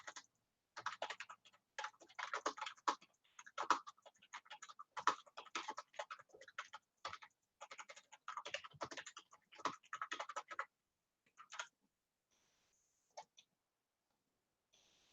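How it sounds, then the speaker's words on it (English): Rapid typing on a computer keyboard, dense bursts of close keystrokes for about ten seconds, then a few scattered taps before falling quiet. "I'm typing something right now, guys."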